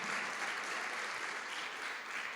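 A church congregation at a Spanish-language service claps together in a dense, steady round of applause that runs throughout, with no voice over it.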